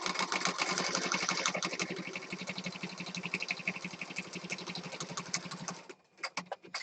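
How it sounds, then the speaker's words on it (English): Sewing machine stitching fabric, a loud continuous close run of rapid rhythmic needle strokes for about six seconds, then stopping and leaving a few scattered clicks and taps, with no voices. "My machine has an automatic thread cutter, so it's cutting the thread when I stop."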